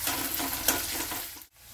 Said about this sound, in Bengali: এবারে পেঁয়াজটাও ভাজা হোক একসঙ্গে।